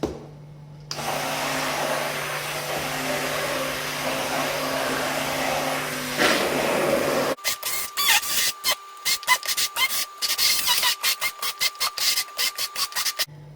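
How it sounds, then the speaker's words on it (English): Hand blender whirring steadily in a pot of pumpkin soup for several seconds, then switching to a rapid stuttering pulse as it hovers near the surface, loud and close with no talk. "I'm just hovering my blending tool right on top of the soup so that way it mixes while it blends"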